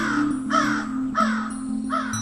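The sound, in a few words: crow cawing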